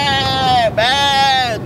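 A man imitates a sheep with a loud, close nasal bleat, two wavering bleats back to back, amid the noisy chatter of a street protest.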